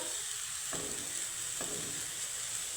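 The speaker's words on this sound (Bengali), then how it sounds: "এখন আমি হালকা হাতে এইভাবে নাড়িয়ে চাড়িয়ে একটু ভেজে নেব" Amla juice and mixture frying in ghee in a pan, a steady broadband sizzle with two soft scraping strokes of a stirring spoon, alone with no talk.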